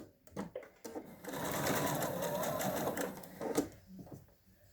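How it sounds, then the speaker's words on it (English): Sewing machine back stitching over shoelaces laid on fabric for a lap pad, a fast steady mechanical whir lasting a few seconds, bracketed by short clicks and handling noises at the start and end. "And stitch down the other side. Again, back stitching over each of the shoelaces."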